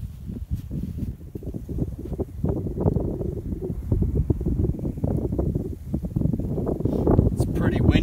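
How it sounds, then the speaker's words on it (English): Wind buffets the microphone at a lake during a catfish fishing outing, a constant low rumbling roar with gusty swells throughout. "It's pretty windy."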